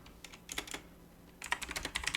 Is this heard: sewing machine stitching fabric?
no